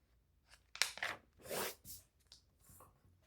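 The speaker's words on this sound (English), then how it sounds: "you'll take one sheet of paper, just fold it in half." A single sheet of paper is folded in half, giving a few quiet, close crinkles and a soft rustling crease, brief and faint with short pauses between sounds.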